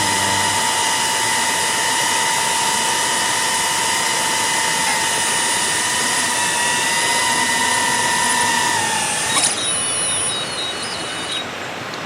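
A DJI drone fitted with Master Airscrew four-bladed propellers hovers close by, its steady high-pitched whine holding constant before shifting and easing off near the end.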